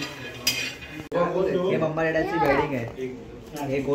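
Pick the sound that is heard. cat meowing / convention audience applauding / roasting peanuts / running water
roasting peanuts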